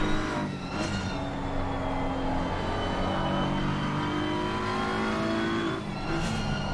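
A race car engine in a sim racing video game at Zandvoort drones steadily at a fairly constant pitch throughout, loud and continuous, with no talking.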